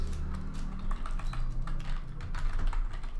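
Rapid typing on a computer keyboard, a continuous dense patter of close key clicks lasting a few seconds, with no talking over it.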